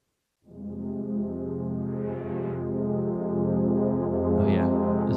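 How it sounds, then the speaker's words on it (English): A mellow synthesizer horn pad swells in and holds a warm, sustained chord, steady and fairly loud, with a faint voice briefly over it near the end. "Horn pad, what does this sound like?"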